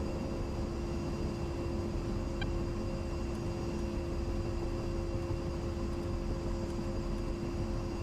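An F-15 jet in the DCS flight simulator sits idling before takeoff, a steady droning engine hum with tonal whine that stays constant throughout and has no talk.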